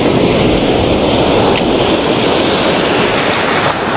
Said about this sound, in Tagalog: Malakas talaga yung alon rito.